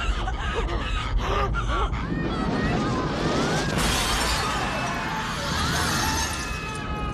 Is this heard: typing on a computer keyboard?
no